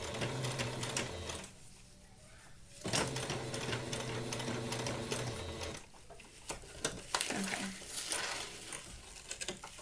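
Sewing machine stitching elastic onto a flip cover, running in steady rhythmic stretches with short pauses between runs, close and clear.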